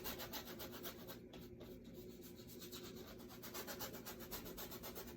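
A stiff bristle brush scrubs oil paint across a board in quick, even back-and-forth strokes, a soft and steady rasping with no voices.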